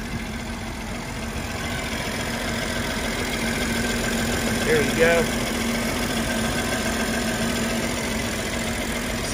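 A 2022 BMW X3 M40i with an inline-six engine idles in a smooth, constant hum, steady and fairly close, while a person speaks briefly near the middle.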